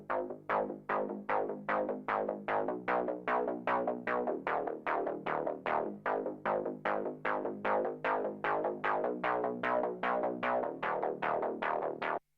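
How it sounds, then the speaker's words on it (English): Sidechained synth bass from a heavily tweaked preset pumps in steady, swung repeating notes with ducking between hits, playing alone in a pop track backing for about twelve seconds. "we get the first instance of the bass"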